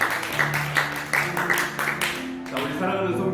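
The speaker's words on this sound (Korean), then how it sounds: "우리 다시 한번 박수 한번 칠까요?" Church congregation at a Korean Sunday worship service clapping together, a rhythmic burst of hand claps mixed with voices and singing-like tones, fairly close and moderately loud.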